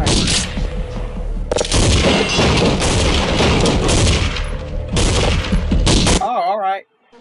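Heavy gunfire in the Half-Life mod The Purge, sniper rifle shots mixed into dense, loud, continuous volleys that stop abruptly near the end, followed by a brief warbling electronic tone.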